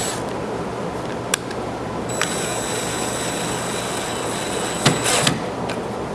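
A power driver sends pocket screws into the wooden frame of a Kennedy Carolina rocker, a whining motor run lasting about three seconds over steady background noise, with a few sharp clicks around it.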